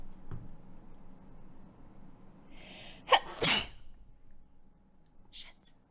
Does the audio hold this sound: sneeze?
yes